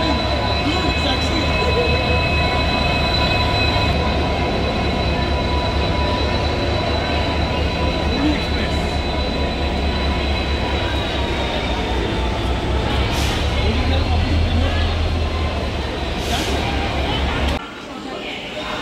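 The 12821 Shalimar–Puri Dhauli Express at Shalimar station, with a crowded platform of travellers, gives a steady loud rumble with sustained high tonal whines and occasional clanks, while voices murmur underneath throughout.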